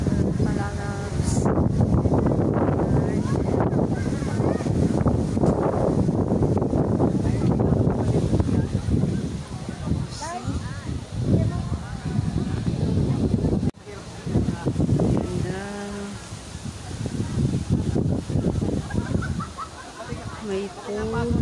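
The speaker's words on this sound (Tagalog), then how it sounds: "sobrang lakas ng hangin na sarap" Strong wind gusts roar steadily across a nature garden in Murcia, Negros Occidental, loud and buffeting against the microphone, with voices talking over it throughout.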